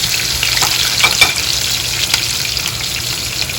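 Onions hit hot oil for a few seconds, giving a loud, dense, continuous sizzle up close with small crackles throughout.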